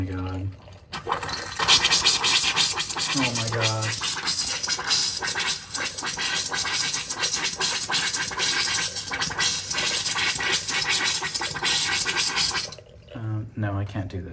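A hotel bathroom sink tap is turned on and gives a loud, harsh sputtering rush of water that runs steadily for about twelve seconds before cutting off, with people talking briefly before and after.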